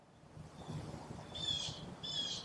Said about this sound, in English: Man, do you hear that bird?